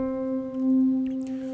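Warm strings pad keyboard voice tuned for less harshness, a mellow sustained chord that swells gently in the middle and holds steady, played alone and fairly close.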